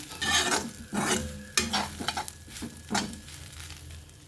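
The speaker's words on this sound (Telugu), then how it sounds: "తర్వాత ఒక స్పూన్ వేసి కరివేపాకు మునగాకు వేసాను" Curry leaves and drumstick leaves fry in a spoon of hot oil, a steady close sizzle broken by repeated stirring scrapes against the pan, with no talking.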